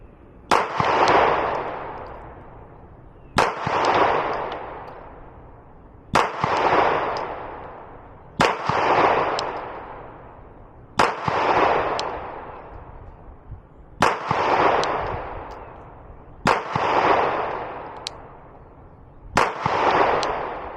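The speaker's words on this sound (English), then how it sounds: "So we're going to shoot at that top left one." Eight loud, evenly spaced pistol shots from a Glock 19 fitted with a Vantage Point Armory compensator, firing 115 grain rounds at a 7-yard range, each sharp crack trailing off into a long ringing decay.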